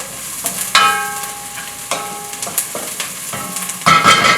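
Onions and spices frying in a pan for vegan paella, a steady close sizzle broken by several clattering stirs and scrapes of a utensil, with a louder burst of sizzling near the end.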